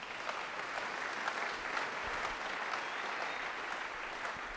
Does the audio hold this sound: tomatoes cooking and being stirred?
no